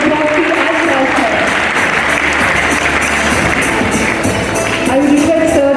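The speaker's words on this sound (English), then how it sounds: "can you please have a huge round of applause for the proxy as well, sir?" An audience at a school Teachers' Day celebration at Sunbeam School Lahartara, Varanasi, gives a loud, sustained round of applause, dense clapping that fills the hall while a voice talks faintly underneath.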